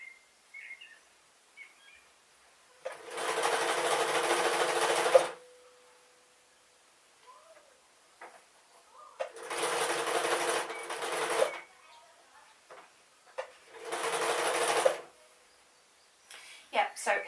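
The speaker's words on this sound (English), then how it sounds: "I'm just sewing it like that" Domestic sewing machine stitching a seam on a pink dress, three bursts of rapid whirring stitching of about two seconds each, separated by pauses with faint handling clicks and a little quiet talk.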